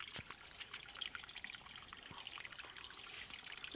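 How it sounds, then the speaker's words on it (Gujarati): Water runs steadily from a natural spring said to flow continuously, giving a faint, even trickle that holds throughout without a break. "સતત પાણી અહીંથી વહ્યા કરે"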